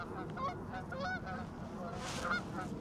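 Several geese honking in an Oxfordshire outdoor setting, a few repeated nasal calls in short bursts, moderately close, with faint background noise.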